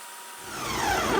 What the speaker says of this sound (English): since the blender is a little packed right now, I'm gonna blend it